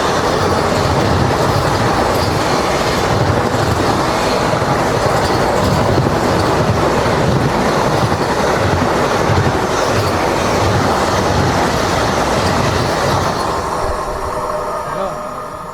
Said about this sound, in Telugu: మెయిన్ లైన్లో కానీ చూసుకుంటే విశాఖపట్నం సికింద్రాబాద్ వందే భారత్ ఎక్స్ప్రెస్ అయితే వస్తుంది